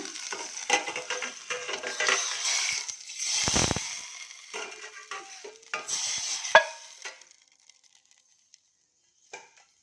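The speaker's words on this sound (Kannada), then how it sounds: "ಇವಾಗ ಸಾಂಬಾರಿಗೆ ಒಗ್ಗರಣೆ ಹಾಕೋಣ." Tempering for sambar sizzling loudly in a pan for several seconds, with stirring scrapes and sputtering bursts, then cutting off into near silence with a couple of faint clicks.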